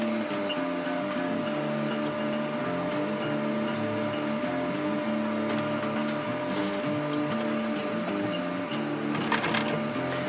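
A sewing machine stitches nylon webbing for an EDC organizer, giving a steady, close mechanical hum with a fast ticking stitch rhythm that runs unbroken throughout, with no talk.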